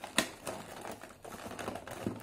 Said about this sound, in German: So, ich packe den Batman wieder ein.